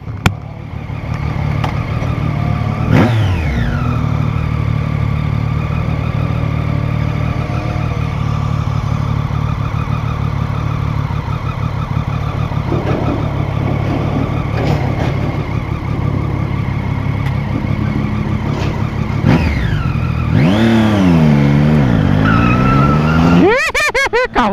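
Old car engine droning steadily throughout while driving, with rising and falling revs near the start and again toward the end, loud and continuous.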